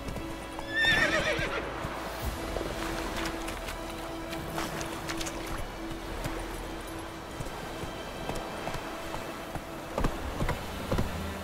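Roach the horse gallops in The Witcher game, quick rhythmic clip-clop hoofbeats running continuously with a whinny near the start and occasional thuds, fairly close and without speech.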